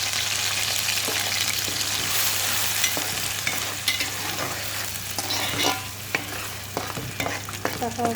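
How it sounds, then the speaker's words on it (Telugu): Ground masala paste frying in hot oil with green chillies for chicken curry, a steady close sizzle with stirring scrapes throughout, no talking. "మనం మిక్సీ చేసుకున్న మసాలా వేసుకున్నాం"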